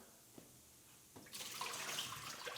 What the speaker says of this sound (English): I'm gonna pull this out and get rid of the water